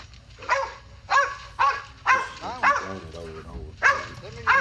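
A tracking dog bays at a deer with repeated loud barks roughly every half second to second, close by, with a person talking briefly in between.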